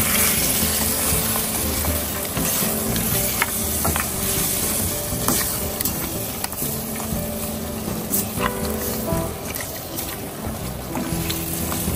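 Pork ribs stirred in a pan with oyster sauce and Worcestershire sauce: a continuous sizzling hiss with occasional light clicks and scrapes from the stirring, steady in level throughout, with no voices.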